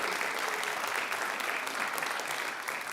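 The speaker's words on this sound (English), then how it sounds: "let's just give one more round of applause for everyone and for all the agencies that applied" Steady round of applause from an audience at a Rotary community grant awards gathering, honoring grant recipients and applying agencies; dense, even clapping that fills the whole stretch without speech.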